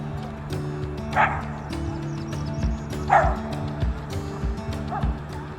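A dog yips and whimpers a few times in short, high bursts over a steady background hum, fairly close.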